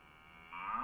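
A single cow moos, faint and brief, its low call rising and swelling in the second half before cutting off, with no other voices present.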